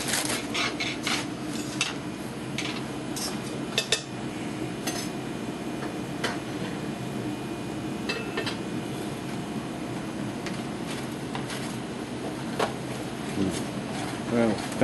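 Soft rustling and crinkling of wrap around a smoked pork butt, with light clinks and taps of utensils and pans scattered throughout, close by, while people talk in the background.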